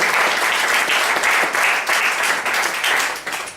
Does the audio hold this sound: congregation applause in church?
yes